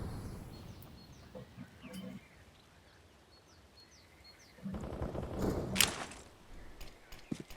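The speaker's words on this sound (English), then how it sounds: "He does hear the gunshot." Gunfire from Counter-Strike: Global Offensive rings out in short sharp bursts amid in-game ambience, with a commentator talking over the action.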